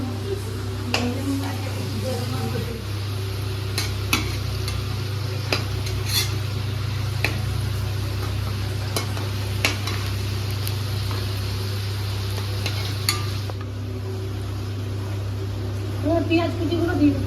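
Potatoes frying in oil in a pan on a home stove, being stirred: a continuous sizzle with a low steady hum and intermittent scraping and clinking of the spatula, while someone talks.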